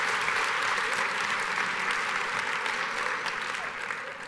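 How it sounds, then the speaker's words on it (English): Big round of applause from a conference audience of about 450 administrators in Vegas for Susan and Ashley, a dense sustained clapping that stays strong and fades slightly at the end. "big round of applause again for Susan and Ashley"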